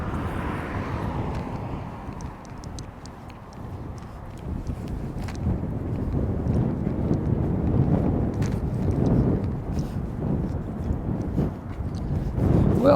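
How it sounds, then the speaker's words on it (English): Wind blows in gusts outdoors around a shopping district, a steady rushing roar against the microphone that swells and eases, with faint clicks over it and no clear talk. "I guess the wind's not going to be too bad. It comes in puffs, and then it settles down and you get another puff"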